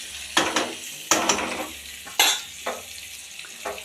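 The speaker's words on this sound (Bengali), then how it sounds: "পটল আলুটা এই যে ভাজছি।" Pointed gourd and potato pieces fry in a pan with a steady sizzle, broken by several sharp bursts as a utensil stirs and scrapes the pan, close and clear with no voices.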